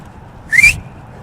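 A single short lip whistle, one clean rising note lasting well under a second, sounds clearly over faint room noise.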